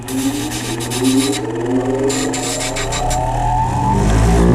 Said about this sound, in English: I'm going to take it over here in the grinder and smooth